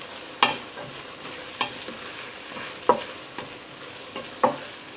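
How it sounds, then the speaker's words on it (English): Garlic sautéing with carrots and onions in a pan on the stove, a low continuous sizzle broken by about five sharp spoon scrapes and taps spaced through the moment, close and without speech. "There's something magical about sauteing onions on the stove, and then when you add the garlic"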